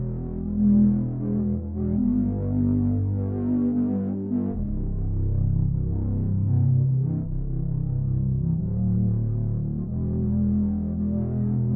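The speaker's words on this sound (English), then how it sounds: "I am using saw for the chords." Sawtooth synth chords from a mobile battle game theme are built in music production software: a dense, dark, sustained pad of layered notes with smooth chord changes, heard alone.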